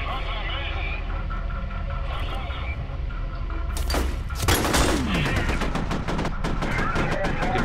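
Gunfire in the shooter game F.E.A.R., loud bursts of rapid automatic shots breaking out midway and continuing as dense crackling over game ambience, while someone talks over the action.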